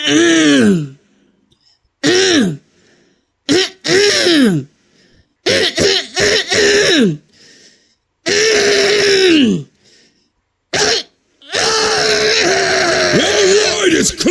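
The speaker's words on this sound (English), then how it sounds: "Now, start by clearing your throat" A voice clears its throat in several loud, harsh bursts separated by silences, with groaning, strained vocal sounds in between.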